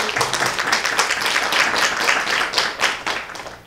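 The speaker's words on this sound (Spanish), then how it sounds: "quiero inclusive pedir un aplauso para Alejandra porque de verdad esto es maravilloso" Audience applause at a media panel event at a university, a crowd clapping in a lively burst of many hands, loud and close, with the claps rising and falling but never stopping.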